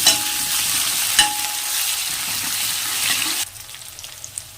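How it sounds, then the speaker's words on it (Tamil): Fresh curry leaves dropped into hot oil for a chicken dish, a loud burst of spattering sizzle with stirring scrapes that holds for a few seconds before settling to a softer hiss. "இப்போ ஒரு 2 கீத்து மட்டும் கருவேப்பிலை இதில் சேர்த்துக்கலாம்."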